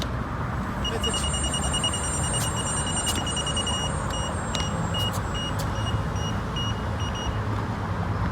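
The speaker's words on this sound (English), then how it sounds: "Just starts beeping and spinning wildly." High electronic beeps from an electric unicycle repeat in quick irregular runs over a loud steady whirr as its wheel spins wildly, with outdoor rumble.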